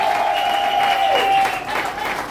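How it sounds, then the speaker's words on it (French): Applause from the crowd at a silver jubilee celebration marking 25 years of religious life, a dense wash of clapping with a sustained tone over it and no clear gaps. "Applaudissons quand même très fort pour tous ces titres-là"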